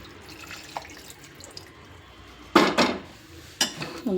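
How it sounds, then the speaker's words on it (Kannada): Eggplant cooking water is poured into a mixer jar in two short splashing bursts, close by, after a quiet stretch with a faint clink or two. "ಈ ನೀರನ್ನೇ ಸ್ವಲ್ಪ ಮಿಕ್ಸಿಯಲ್ಲಿ ಹಾಕ್ಕೊಂಡು"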